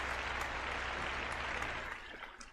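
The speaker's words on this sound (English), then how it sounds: "a big round of applause here for Tony" A round of applause for a guest on a paranormal open-line show, a soft, steady patter of clapping that continues evenly and tapers slightly toward the end.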